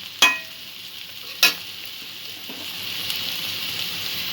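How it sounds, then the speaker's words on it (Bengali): A pan of kankrol (spiny gourd) and prawn curry hisses and sizzles steadily, with two sharp spoon knocks against the pan near the start and a faint scraping stir after them, close and without talk. "সব কিছু ভালো করে আর একটু মিক্স করে নিয়ে জল দিয়ে আমি সেদ্ধ করে নেব।"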